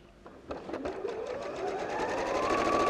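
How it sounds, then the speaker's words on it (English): A sewing machine stitching fabric for a dog bow tie collar, a fast rhythmic mechanical chatter that starts in single thumps and speeds up into a continuous buzzing run, close and alone. "I'm just going to sew"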